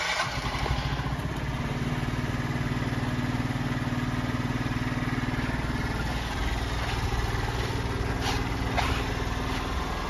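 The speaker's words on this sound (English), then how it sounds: "Really nice, quiet, smooth sounding engine." A 2023 Aprilia SXR50 50cc scooter engine idles steadily and evenly, a low continuous putter that holds at the same level throughout with no talking.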